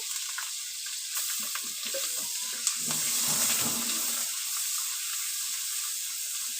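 Onion paste, garam masala and ginger paste fry in hot oil, with a continuous hissing sizzle and a brief stirring clink. The sound is fairly faint and steady, and no voice is heard.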